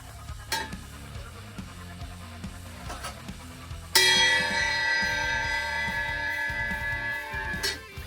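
A former A Custom cymbal bell on a drum set is struck with a drumstick, ringing out loud and bright with a long sustained shimmer after a few lighter taps.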